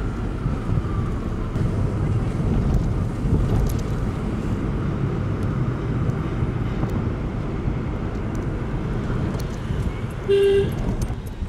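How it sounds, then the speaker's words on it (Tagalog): Busy city street traffic in Manila, with a steady broad rumble of cars and wind buffeting the microphone, and a short car horn toot near the end. "grabe yung traffic dito guys"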